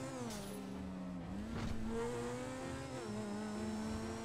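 A car in GTA 5 drives with a steady engine drone whose pitch shifts as it speeds up and eases off. The engine is heard alone and is fairly quiet throughout.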